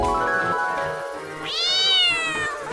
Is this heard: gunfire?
no